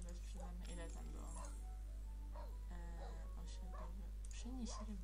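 A dog in The Sims 3 video game yips and whimpers in short bursts, fairly quiet under a steady low hum.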